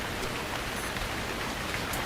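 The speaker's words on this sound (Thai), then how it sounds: "ฝนแม่งตกด้วยครับ" Steady, dense rainfall in the survival video game Stranded Deep, a continuous hiss of drops hitting surfaces that stays loud and even throughout with no voices.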